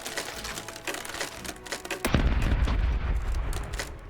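A ship's starboard cannons fire in a pirate naval battle game, a rapid ragged volley of sharp reports at first, then a heavy booming rumble that rolls on and lingers.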